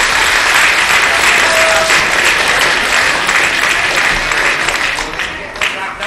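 Loud, dense applause from an audience at a school robotics competition in Prague, steady for several seconds before tapering slightly at the end.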